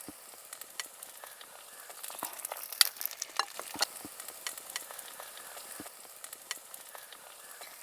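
Finely chopped small shallots fry in a pan for Kottayam-style fish curry, giving a soft, close sizzle with sharp scattered crackles and pops as they are stirred, fairly quiet and with no talking.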